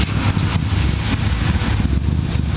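A 1969 Camaro Z28's 302 V8 engine runs loud and close just after a cold start, a steady, rough rumble with no one speaking.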